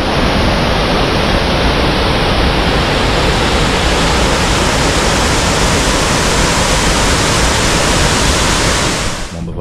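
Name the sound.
waterfall near a campsite in the Alps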